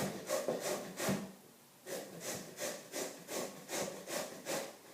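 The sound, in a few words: grating produce with a separate hand grater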